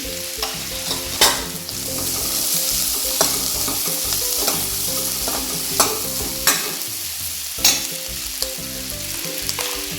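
Spices and turmeric sautéing in a hot pan for a South Indian sambar masala, producing a steady loud sizzle with regular scraping strokes of a spoon, close and with no voices.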